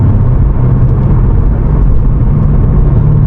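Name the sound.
BMW M5 Competition engine accelerating on a pull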